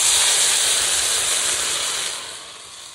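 Water is poured into a hot pan for a Bengali fish curry of shing fish and shola kochu, giving a loud, close steam hiss that slowly dies down.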